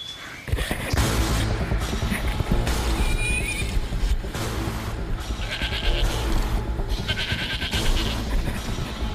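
A goat bleats during a hunt in a video game, its cries loud and mixed into dense, continuous game noise with shifting layers of rustling and animal-like calls.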